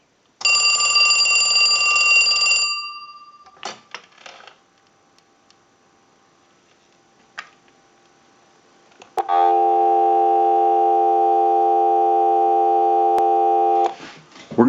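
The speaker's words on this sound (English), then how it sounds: "we'll give you some dial tone" A ring burst cuts off on a Western Electric 2554 telephone, a few clicks and clunks follow, then a steady dial tone hums for several seconds before another ring starts.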